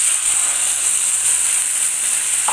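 Paste of green chilies and tomato frying with ground spices in a pan, a steady bright sizzling hiss throughout, close and fairly loud, with no voices.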